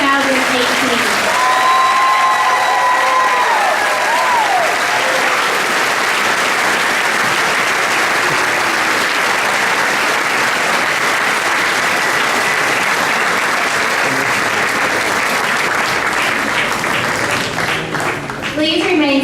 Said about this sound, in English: would everyone please join me in one more round of applause for our band and choir